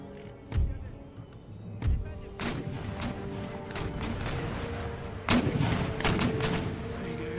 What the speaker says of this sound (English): They got three guns firing.